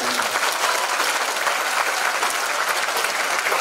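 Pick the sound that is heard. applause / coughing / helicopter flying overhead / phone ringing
applause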